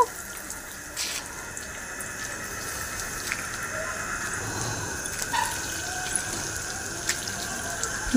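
Pieces of rohu fish fry in hot oil, giving a steady, even sizzle that runs throughout with no pauses and no talking.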